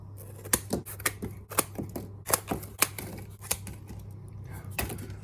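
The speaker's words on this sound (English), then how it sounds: "one of my tips for scissors is that your hand goes under the material. Notice how my hand is starting to disappear under the cardboard." Scissors cutting through cardboard, a series of sharp crisp snips and crunches in an irregular rhythm, close and clear over a faint steady hum.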